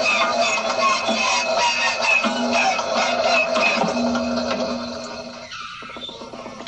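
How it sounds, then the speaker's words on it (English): The inertia starter from a 1928 biplane whines with a steady, high-pitched spinning tone, then winds down as the pitch drops and the sound fades. "The first thing is the inertia starter off an old 1928 biplane"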